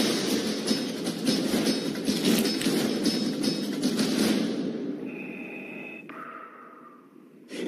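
Heavy, rasping mechanical breathing fills a movie trailer for several seconds, close and loud, then gives way to a couple of brief electronic tones before a sharp sound at the end.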